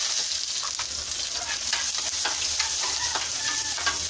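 Garlic sautéing gently in a pan over low heat, a soft steady sizzle with light stirring scrapes and small pops, close and continuous with no talking.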